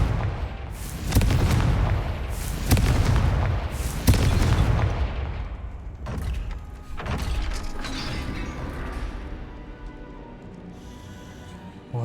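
Hogwarts Legacy's Confringo blasting spell sets off a series of heavy booming explosions, three big thuds in quick succession followed by smaller crackling bursts and a fading mechanical rumble.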